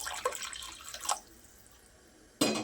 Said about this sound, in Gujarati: અડધા કપ જેટલું પાણી ઉમેર્યું છે.